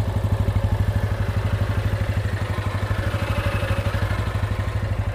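A Honda SP 160 motorcycle engine idles steadily, a close, even, rapid low thumping pulse with light mechanical clatter, running alone without talk.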